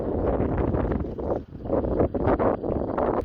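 A strong, cold wind blows in the Saudi Arabian mountains, buffeting the microphone with a continuous rough rumble that surges and briefly dips, and no one speaks.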